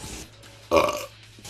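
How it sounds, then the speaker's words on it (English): A single loud burp rises abruptly out of near silence, lasts about a third of a second, and then fades quickly. "Sorry, I had to burp."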